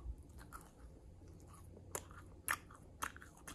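Close bites and chewing of a mini glazed donut: a few crisp, soft crunches spaced about half a second apart, quiet and alone with no talking.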